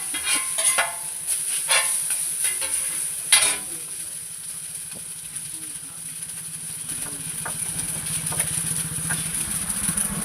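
Chowmein noodles frying with spices in a pan, a steady close sizzle broken by clattering stir strokes, with a low engine-like hum running underneath.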